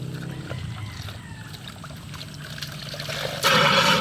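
Water trickles softly at first, then suddenly surges into a loud, strong rushing flow near the end.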